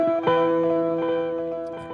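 An electric guitar through an effects preset modeled on U2's The Edge rings out chiming, sustained notes with shimmering delay repeats, plucked picks trailing into a smooth wash, with no talking.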